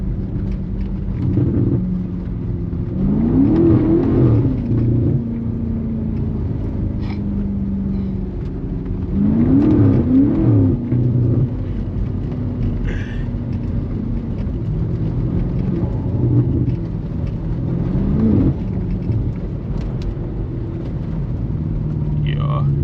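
A BMW F90 M5 engine rumbles and surges in repeated revving swells while drifting in fourth gear down a winding road, heard from inside the car with people talking over it.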